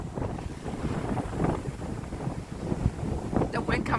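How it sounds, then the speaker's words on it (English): Cold wind gusting in off the Atlantic Ocean at Herring Cove, a loud continuous buffeting rumble against the microphone, with surf noise underneath. "The wind coming off the ocean is frigid."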